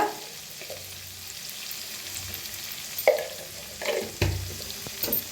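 Onion-tomato masala with turmeric fries steadily in a pan, a constant close sizzle broken by a few louder scraping stirs near the end.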